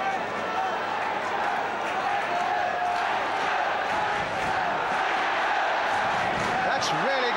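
A football crowd at a 1975 Burnley match roars steadily in a big stadium, a loud continuous wash of voices, with commentary talking over it.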